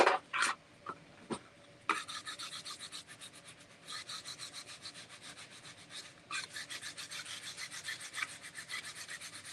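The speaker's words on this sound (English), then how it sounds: "Just gonna smooth it out with my scraper here." Repeated scraping strokes of a hand scraper smoothing a piece of wood, close and crisp, in rhythmic bursts with a couple of brief pauses and scattered knocks, no talking.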